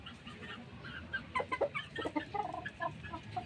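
Young chicks from a flock of gamefowl bloodline stock, giving soft close peeps and clucks in quick irregular bursts over a quiet background.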